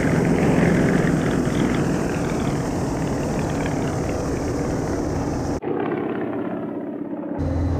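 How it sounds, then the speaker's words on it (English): A Yak-50 propeller aircraft roars past on a fast photo pass at about 330 km/h, a loud sustained engine and prop drone that stays strong throughout, then cuts to a muffled lower drone near the end. "We'll now fly our final photo pass from stage right, but this time it's flown at a more photography-friendly 330 kilometers per hour."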